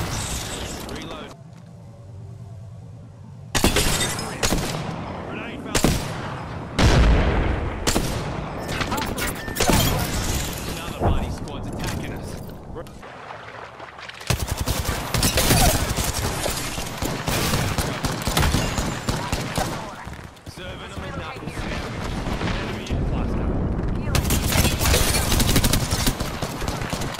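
Gunfire in an online shooter game: bursts and scattered shots from several weapons crack through a noisy, busy battle, loud and close at times, with game sounds around them and no clear talk.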